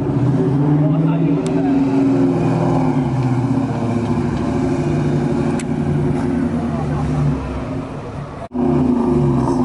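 A turbocharged car idles and revs at a roadside car meet, its loud, steady engine drone close by, with a sudden cut and sharp restart near the end; voices talk over it.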